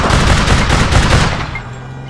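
Rapid, loud bursts of gunfire from a shooter video game, several blasts packed together over the first second and a half before tailing off into a lower steady hum; no talking.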